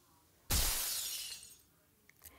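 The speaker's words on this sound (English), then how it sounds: "I want to add the sound effects of glass shattering as it comes in." A stock glass-shattering sound effect from Storyblocks: one sudden, loud crash of breaking glass that rings out and fades over about a second, followed by a few faint tinkling fragments.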